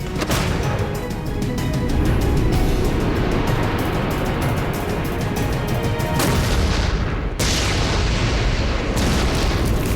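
A video game explosion from a grenade launcher fight produces continuous loud booming and rumbling blasts, dense and sustained with brief drops in intensity.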